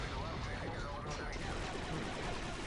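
Dense bursts of gunfire in the video game Star Wars Republic Commando crackle continuously, with overlapping shots and a busy, chaotic mix that suggests voices underneath.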